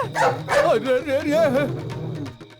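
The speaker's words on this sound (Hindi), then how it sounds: "कुत्ता है बे?" A dog barks and yips in a burst of several close, loud, whining barks that trail off into quieter noise near the end, with no clear talking over them.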